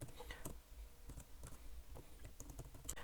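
Rapid, uneven key clicks from a computer keyboard as code is typed for a Pygame snake game, close and moderately loud, with irregular bursts and short pauses and no talking.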